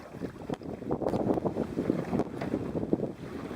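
Steady wind gusting to about 40 km/h buffets the microphone on open water with whitecaps, rumbling gusts and low roaring noise, continuous throughout, with faint knocks underneath.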